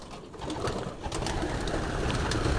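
Several pigeons coo in a coop, their soft throaty calls overlapping continuously at close range with a faint rustle of birds behind.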